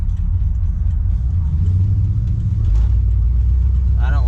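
A Mercury Marauder with a freshly replaced head gasket, power steering and manual brakes rumbles close up on a street drive, its engine note swelling as it accelerates partway through.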